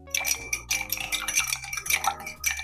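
An Old Fashioned cocktail is stirred in a mixing glass, with a bar spoon clinking and ringing against the glass and ice in quick, bright, close-up repeated strokes.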